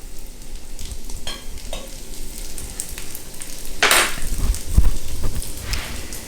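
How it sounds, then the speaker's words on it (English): Onions and garlic sautéing in a pan while ribeye steaks are prepared, a continuous close sizzle with scraping stirs and a louder hiss burst partway through, no talk. "you just basically saute your onions and garlic"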